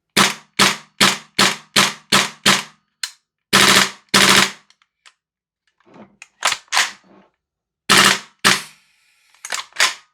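GHK G5 airsoft rifle fitted with a TAPP HPA kit firing loud, close, sharp single shots in a quick run, then scattered bursts with quiet gaps and faint clicks between.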